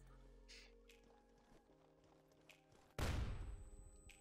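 Counter Blox game audio: faint clicks and light taps, then one sudden loud gunshot-like burst from an SMG that decays over about a second.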